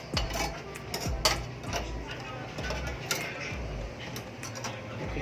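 Food being flipped in a Kyowa KW-3850 air fryer oven: close metallic clinks, scrapes and rattles of a tray and utensils, with a few sharper knocks scattered over several seconds and a low hum underneath.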